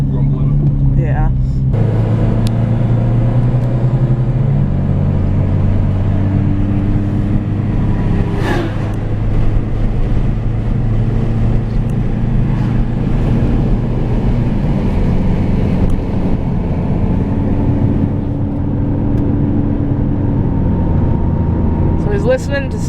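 A car cruises on asphalt at about 70 mph after upper control arm work, with a steady loud road and engine drone that shifts slightly in pitch and has a brief whoosh partway through.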